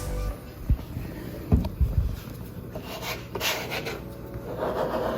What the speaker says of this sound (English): this is just an auto body squeegee that I'm using here